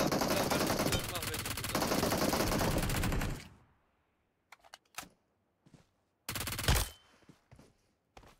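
Gunfire in PUBG Mobile: a dense, loud burst of rapid automatic fire for about three seconds, then scattered single shots and a short second burst, with players talking.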